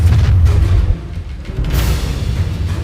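The Incendio fire spell cast in a Hogwarts video game bursts out as a loud, deep whooshing boom. A second fiery surge follows about halfway through and rumbles on to the end.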